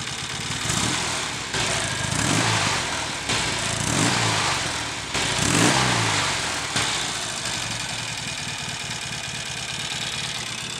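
A Norton Commando 850 motorcycle engine runs after its blocked carburettors were cleared, a close, steady idle with several blips of revs that rise and fall before settling back to a lumpy idle.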